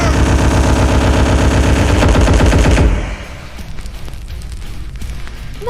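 Loud, rapid machine-gun fire rattles in a dense continuous burst for about three seconds, then cuts off, leaving softer crackling noise.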